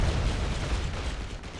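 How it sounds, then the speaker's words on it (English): Dense explosions and gunfire in a Call of Duty video game: a continuous, loud barrage of booms and blasts with no talk. "The amount of explosions."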